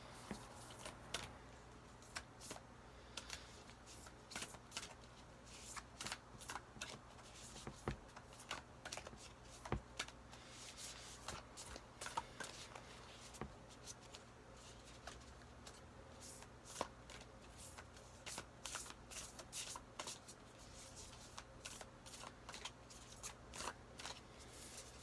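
A deck of cards is shuffled close by, giving long runs of rapid, crisp riffling clicks and soft flutters that stop briefly and start again, with no voices.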